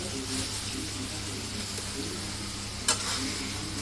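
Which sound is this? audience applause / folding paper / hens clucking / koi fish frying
koi fish frying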